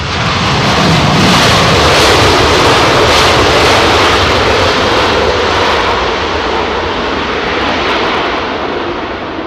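A Boeing 747 jet at London Heathrow roars loudly and steadily, a broad continuous engine rumble that fades slightly toward the end, with no talk over it.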